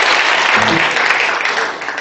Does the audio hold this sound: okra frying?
no